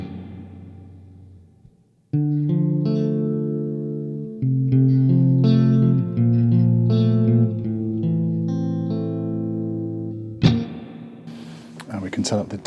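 An Echofix EF-X2 tape echo with its spring reverb turned to maximum, sustaining dense, shimmering guitar chords that ring and wash together, ending in a crashing, splashy spring burst, loud and close.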